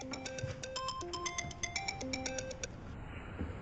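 Telephone ringtone playing a bright electronic melody of short repeated tones for about three seconds, clear and close, then stopping.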